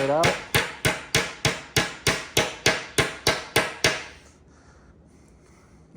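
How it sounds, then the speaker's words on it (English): A small hammer strikes metal staples on a pinball machine playfield in a fast, even series of about a dozen sharp knocks, then stops, leaving quiet room noise. "I'm gonna just keep on banging out these staples"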